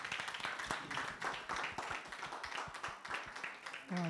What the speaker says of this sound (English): Let's give the Lord a clap offering